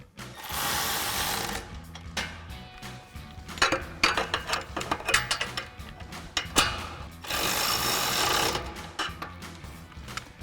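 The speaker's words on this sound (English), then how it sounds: "Now we can take our 13mm socket and tighten these down." A 13mm socket ratchet tightens running board bracket bolts on a Ford F-150, with bursts of rapid ratcheting clicks between louder buzzing runs of a power tool, close and busy.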